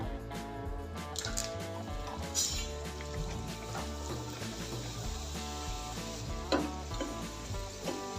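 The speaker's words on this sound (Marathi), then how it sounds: "आता बाकीचेही आपण असेच तळून घेऊया" Bhature fry in hot oil, a steady, soft sizzle running under background music throughout.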